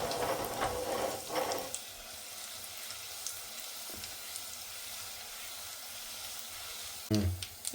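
Urad dal, mustard seeds, cumin and chopped dried red chillies fry in hot oil. The sizzle is loud at first, then fades to a faint steady crackle, with a brief louder stir near the end.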